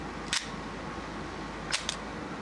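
Two crisp shutter firings from a Pentax ME Super film SLR with a metal vertically traveling shutter, one click then a quick double click about a second and a half later, close and sharp over a faint steady hiss.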